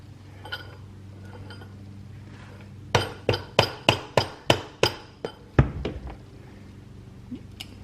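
A screwdriver tapping a CV boot on a Humvee 10k halfshaft: a brisk run of about ten sharp metallic knocks in steady rhythm, close and loud, after a couple of faint clinks.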